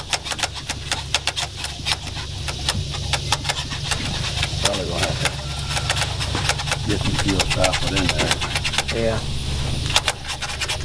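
A Mack truck diesel engine with loose injector lines cranks and catches, settling into a rough, loud, rapidly pulsing run close by, with people talking over the clatter.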